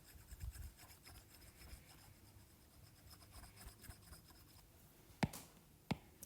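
An eraser rubs writing off a board in steady scratchy strokes, close and faint. Two sharp knocks near the end sound like the eraser being tapped or set down on the board.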